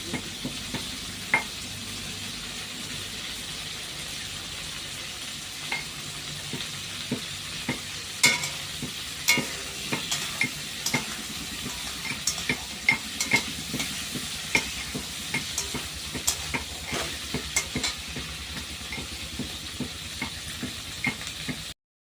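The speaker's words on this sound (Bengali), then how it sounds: "দেখো, ভাজা হয়ে গেছে ফুলকপিটা" Cauliflower fries in a pan with a continuous low sizzle, while a spatula stirs and scrapes at an irregular pace that quickens over the second half, close and fairly quiet, with no one speaking.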